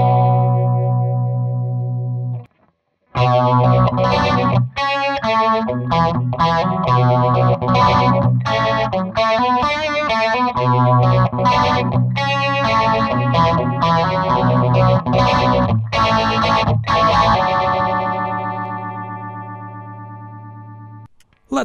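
Electric guitar riff played through an Xvive Phaser King phaser pedal on its high-speed setting, giving a fast swirling sweep, with loud, rhythmic strummed chords after a short pause.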